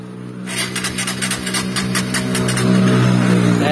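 A motorcycle engine, damaged after running without oil, starts up and runs close by with a rough, uneven rattling idle and rapid knocking that grows slightly louder.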